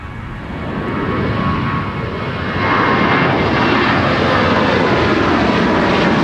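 A Southwest airliner rolls for takeoff on runway 30 left at Minneapolis–St. Paul airport, its engine roar building from a steady rumble into a louder, sustained broadband thunder that holds to the end.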